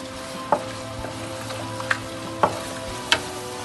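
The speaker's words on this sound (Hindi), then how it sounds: "अभी इसमें डालेंगे चिकन, उसको थोड़ा भूनेंगे।" Chicken frying in spiced tomato masala for a large pot of pulao gives a steady low sizzle, with a few sharp scrapes and clanks of stirring spaced about a second apart.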